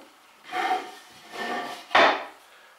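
A marking gauge scribes lines into a wooden leg for a mortise, making three soft, close scraping strokes, the last one sharper and louder.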